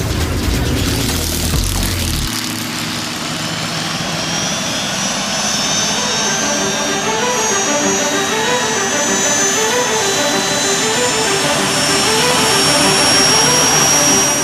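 An aircraft engine runs at a loud, steady roar with a rising whine, its pitched tones climbing and holding over about fourteen seconds with no talking.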